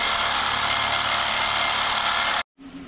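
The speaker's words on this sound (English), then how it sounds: "I'm going to try to chop the head off of that bolt" Power tool cutting through a small bolt during work on a 1978 Ford F100, a loud harsh broadband grinding whine that cuts off abruptly, followed by a brief lower hum.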